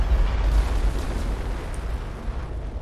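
A loud, sustained explosion from a test launch in the video game Fallout 4 rolls on as a deep, rumbling blast with crackling debris for the whole stretch, no voices over it.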